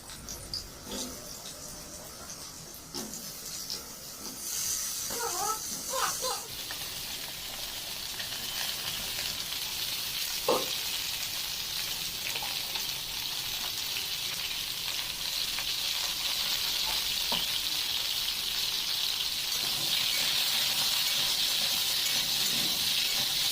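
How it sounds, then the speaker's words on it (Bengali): Chopped vegetables for khichuri frying in a pan, with a steady sizzling hiss that slowly grows louder and a few scattered stirring knocks early on. "ওই যে কেটে রাখা সবজিগুলো ওইগুলোকে একে একে ভেজে নিচ্ছি"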